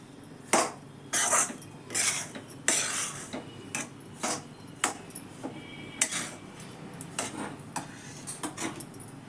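Semolina dry-roasting in a pan while a spoon stirs it, giving repeated scraping and clinking strokes in an irregular rhythm, close and fairly quiet, with no voices.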